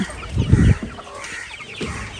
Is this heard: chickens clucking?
yes